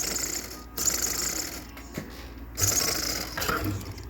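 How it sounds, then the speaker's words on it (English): A Savox servo on an ECTO RC truck whirs in short, sharp bursts of motor whine, several quick movements broken by brief pauses and heard close up. "I love that servo there."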